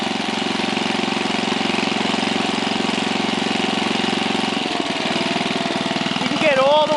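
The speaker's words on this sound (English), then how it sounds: "Now this is a splash lubed engine" A 1968 Briggs and Stratton 7hp 275cc horizontal splash-lubed engine idling steadily with an even, close putter, shifting near the end as a brief whine rises over it.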